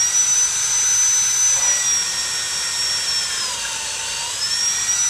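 Power drill boring a large hole through a tough, old solid 4x4 wooden garden post, a steady loud high-pitched whine running continuously alone with slight pitch dips as the bit bites.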